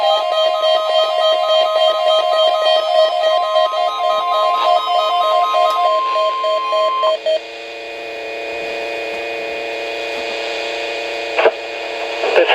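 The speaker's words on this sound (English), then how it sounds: "The signal you just heard was our weekly test of the NOAA Weather Radio Warning Alarm System" NOAA Weather Radio warning alarm weekly test from the National Weather Service in Grand Rapids: a loud, steady, piercing electronic tone held for several seconds, with a brief burst of data-like warble at the start and a quieter hum trailing off.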